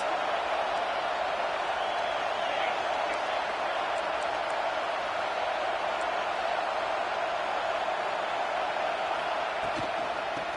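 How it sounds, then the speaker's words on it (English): Dense, steady roar of a large football stadium crowd at an Oklahoma vs Georgia game, cheering continuously to help the defense, loud and unbroken with no clear breaks. "Listen to this crowd just shaking the girders of this place, trying to help their defense."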